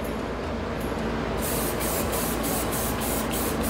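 A Gaahleri Ghad 68 airbrush sprays pro leather dye onto leather patches, giving a steady, close, continuous hiss that carries through the whole stretch with faint rhythmic pulsing, no voices.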